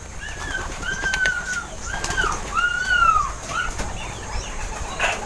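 Racing pigeons arriving coo and call nearby while wings flap in short bursts, repeated several times over a quiet outdoor background.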